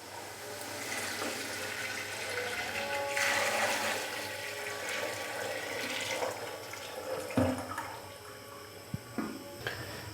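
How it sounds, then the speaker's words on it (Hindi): Yakhni meat stock pours steadily into a pot of beef pulao after the meat has been fried dry with yogurt, a continuous watery rush and splash that runs for the whole stretch without speech. "तो अभी मैं इसके अंदर यखनी डाल दूंगा।"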